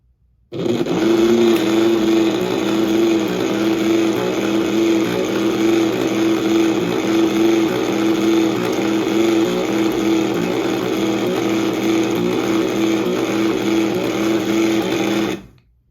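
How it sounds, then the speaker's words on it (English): An electric motor runs steadily during a bench test on a rare unboxed machine, starting abruptly and holding an even, loud whirring hum with a faint rhythmic pulse before cutting off cleanly near the end. "Now let's see about the motor."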